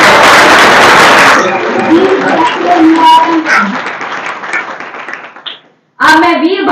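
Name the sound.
loud welcoming applause from the audience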